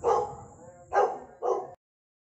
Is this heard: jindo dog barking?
yes